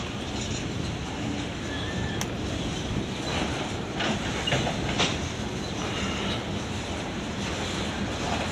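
A CSX freight train passes slowly: a steady, loud rumble of rolling railcars with faint clacking of wheels over rail joints, continuous throughout with no talk.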